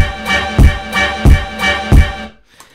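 A punchy synth stab repeats four times in an even loop, each hit landing with a deep kick drum thump, before the pattern cuts off into near silence.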